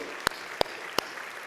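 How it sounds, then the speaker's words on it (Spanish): At a Christmas candlelight church service, three crisp, evenly spaced claps sound faintly over a quiet hall, spaced roughly a third of a second apart with nothing else prominent. "Dale un fuerte aplauso a Él."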